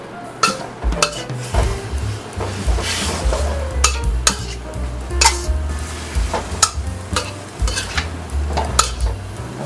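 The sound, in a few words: stirring seafood chowmein vegetables in a pan on high heat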